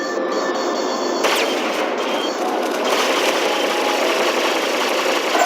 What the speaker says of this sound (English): We're taking heavy fire from its turrets.